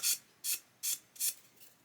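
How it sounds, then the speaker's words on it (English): A 400-grit sanding stick gently stroked over a plastic Airfix 1/72 Lancaster model part, four evenly spaced short bright rasps close up, with quiet pauses between them. "just by gently sanding"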